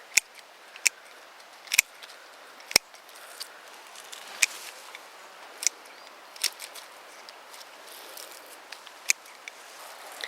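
Sharp, dry snips of garden cutters trimming finished dianthus flowers, about a dozen irregular clicks spread across the stretch, close and fairly quiet outdoors with no talking.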